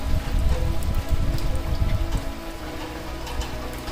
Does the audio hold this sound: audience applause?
no